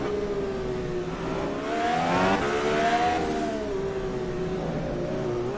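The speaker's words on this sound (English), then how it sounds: "Downshifting right there to try to get as much torque as he can coming off that turn and get a good run." An Indy car's engine heard onboard through a turn on the Toronto Street Circuit, its close, steady drone swelling and sliding in pitch as it downshifts, then settling back to a sustained tone.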